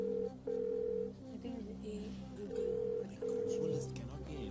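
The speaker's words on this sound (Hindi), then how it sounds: "उनको फोन लगाइए प्लीज" A telephone call being dialed on the TV quiz show Kaun Banega Crorepati, heard as repeated steady ringback tones with short gaps, faint beneath background music and murmuring voices.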